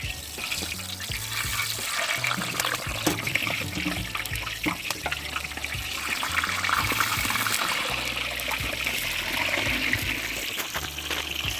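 Rain dripping outdoors beside an open cooking fire, a continuous dense patter and trickle of water with scattered sharper drops, steady and fairly close.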